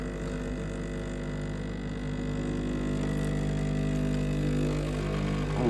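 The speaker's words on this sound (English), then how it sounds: "Here we go, the coffee's about to pour." A coffee machine pours Kopi Luwak coffee with a steady, droning mechanical hum and whirr that holds even throughout and swells slightly louder toward the end, close by with no voices.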